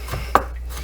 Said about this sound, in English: you can do that by rocking your knife or actually chopping